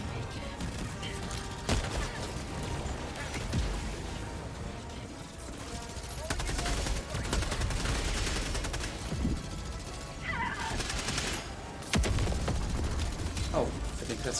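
A sentry turret called down in Helldivers 2 whirs mechanically and fires in rapid clattering bursts, with ongoing battle noise, impacts and a continuous background din throughout, fairly distant and moderate in level.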